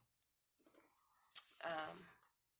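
Scissors snip through paper while making a Christmas box ornament with a template, a few light clicks and cuts followed by a longer, louder crunching slice near the end, close by.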